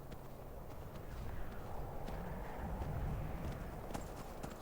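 A horse is ridden in Skyrim, its hooves clip-clopping steadily in a quiet, even trot beneath a low ambient rumble.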